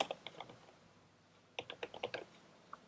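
Two short bursts of computer keyboard typing, including a copy shortcut, with crisp close key clicks separated by a brief quiet gap.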